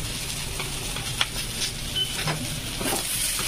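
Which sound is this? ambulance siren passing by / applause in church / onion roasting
onion roasting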